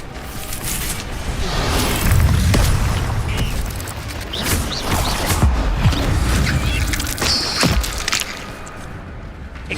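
A fire spell cast in Hogwarts Legacy gives a loud, sustained whooshing roar with heavy low rumble, mixed with booming impacts and crackling bursts of game action throughout.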